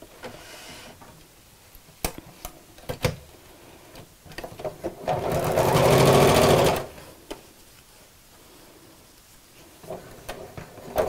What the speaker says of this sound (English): I'm going to go as close as I can to sew on top of that stitch line that I've already made